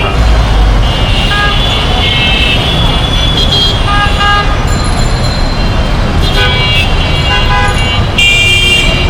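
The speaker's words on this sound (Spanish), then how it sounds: "simplemente escuchar cómo no paran las bocinas" Car horns honk nonstop in dense, flowing city traffic in Dhaka, overlapping short and long toots near and far over a loud continuous road roar.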